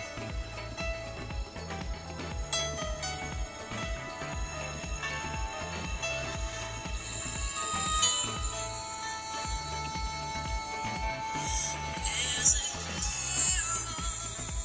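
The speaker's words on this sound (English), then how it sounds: "Let's just turn a piece of music on, and we can see how loud" Music plays from the built-in speaker of an Android 2.3 smartphone turned up loud, a continuous tinny beat-driven track with no voices over it.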